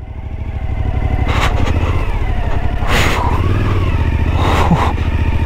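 Motorcycle rides through a deep sandy corner on a desert track in Morocco, engine droning steadily close by with several revving surges as the rider works through the sand.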